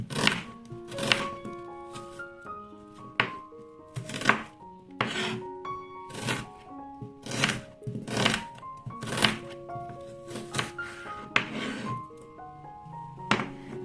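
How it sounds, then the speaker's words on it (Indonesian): A knife chops a yellow onion lengthwise on a cutting board, a steady run of sharp, close thunks at an uneven rhythm with no talk over it. "Untuk bawang bombaynya ini akan kita potong-potong memanjang seperti ini."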